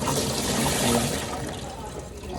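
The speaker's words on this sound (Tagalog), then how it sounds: "Buhos natin yung bigas dyan para kuha lahat yung tubig" Rinsed rice and its water pour into a strainer, a loud continuous splashing wash that eases off slightly toward the end.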